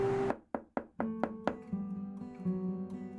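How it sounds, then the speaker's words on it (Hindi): Six quick, sharp raps on a door in a late-night horror tale, evenly spaced and fairly close, followed by a low, sustained eerie drone. "दस्तक हर रात होने लगी।"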